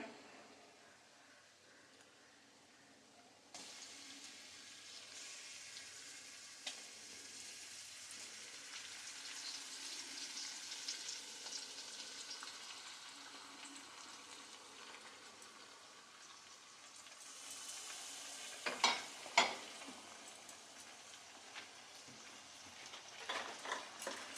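Marinated chicken for biryani frying in a hot pan, a steady close sizzle that swells and brightens partway through, with a few sharp clinks of a utensil near the end.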